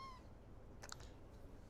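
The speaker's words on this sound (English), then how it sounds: "Little tiny cat." A small cat gives one faint, short meow in a quiet indoor room, with no talking.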